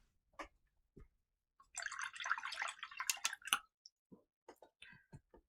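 A brush loaded with watercolor paint is tapped softly over paper, giving a few sparse, quiet taps and wet flicks, with a short burst of denser spattering in the middle, close and faint in a quiet room.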